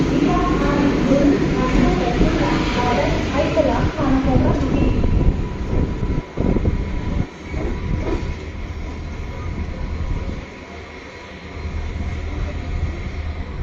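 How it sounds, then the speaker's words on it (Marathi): A Mumbai local train bound for Chhatrapati Shivaji Maharaj Terminus pulls into platform 1 at a busy station. A loud, steady rumble of wheels and carriages runs throughout, with voices mixed in, and it eases slightly toward the end. "छत्रपती शिवाजी महाराज टर्मिनस जाने वाली एक लोकल प्लॅटफॉर्म क्रमांक 1 पर आ रही"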